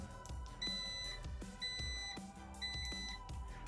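A HITWAY H9 Pro e-scooter's turn indicator beeps steadily, a repeating electronic tone pulsing about once a second over a low background hum, with no talking.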